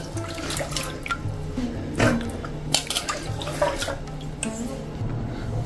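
Soaked chickpeas being rinsed in water before going into a pressure cooker for Vinayaka Chavithi prasadam, with continuous splashing and sloshing, scattered drips and a few louder pours, close and steady, no talking.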